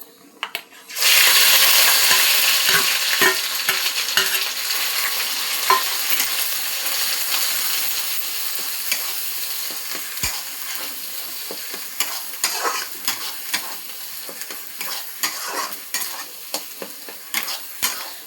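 Ground bottle-gourd leaf and fish paste with chili sizzling loudly in a hot pan after an abrupt start, with frequent scraping stirs and clicks over a continuous hiss.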